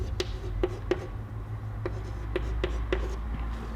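A pen scratches across paper while a letter is written by hand, leaving short scattered strokes about every half second over a low steady hum.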